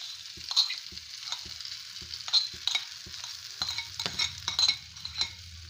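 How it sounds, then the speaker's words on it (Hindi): Mashed potatoes for a halwai-style samosa filling being stirred in a pan, with irregular scraping strokes and soft knocks over a quiet, continuous sizzle. "अब ये जो आलू हमने मैश किए हुए हैं वो डाल देंगे।"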